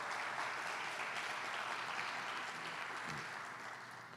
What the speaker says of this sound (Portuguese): Você pode aplaudir Jesus por essa palavra maravilhosa?